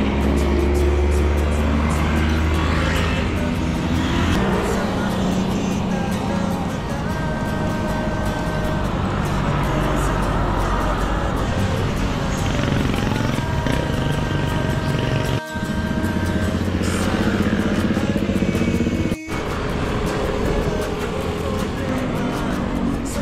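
Steady road traffic in Antipolo heard from a motorcycle on the move, a continuous loud engine and road rumble with passing vehicles and brief horn-like tones, close and without talk.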